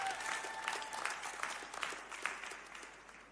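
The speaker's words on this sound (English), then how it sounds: "Please give him a round of applause as he makes his way onto the stage." Audience applause fills a press conference hall as a fighter walks onto the stage, a dense, steady clapping wash that holds for a few seconds and slowly thins.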